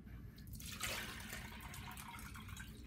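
Water is measured out into a clean bowl while preparing investment casting, giving a faint, steady splashing and trickling sound throughout, with a slight surge near the start.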